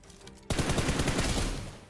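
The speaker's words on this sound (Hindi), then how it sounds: "अब तुम मेरी रिलोड स्पीड चेक करना एक बार" Rapid automatic weapon fire in the BGMI mobile shooter game bursts in abruptly after a quiet moment, a dense stream of close, loud shots lasting over a second.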